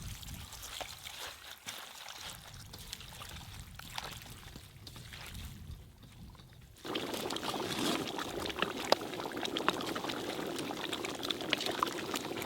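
Water is poured over roselle leaves to wash them for an outdoor chicken curry cooked in the jungle. A continuous splashing pour runs throughout and grows noticeably louder and fuller in the second half.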